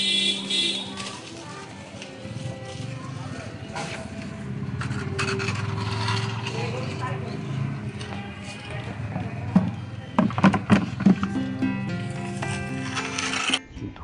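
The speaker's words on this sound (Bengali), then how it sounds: "ধোয়ার পরেও কষ বেরোচ্ছে, একটু এখানে ঘষে নিই।" A freshly picked mango is rubbed against a rough surface to wipe off its sap, giving steady scraping and rasping strokes with a few sharper knocks near the end, heard up close.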